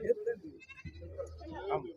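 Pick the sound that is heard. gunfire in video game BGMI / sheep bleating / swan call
sheep bleating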